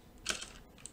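A computer keyboard clicks through a quick cluster of keystrokes as Java calculator code is typed, faint and close, lasting about a second.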